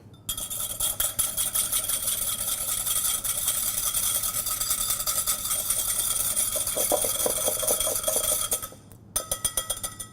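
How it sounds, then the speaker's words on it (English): Olive oil dressing being whisked in a bowl: a steady, fast stream of light metallic clinks and scraping that runs continuously, then breaks off briefly near the end and resumes in a few short bursts. "we're just going to grab a whisk and we're going to whisk it up real quick"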